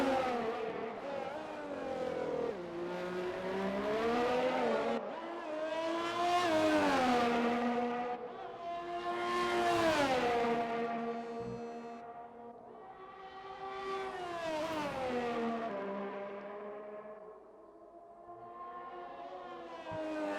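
Race car engine at Zandvoort in a sim racing game, screaming through repeated rising and falling revs on a flying lap, with sharp upshifts and downshifts in a steady, loud, close sequence with no talk.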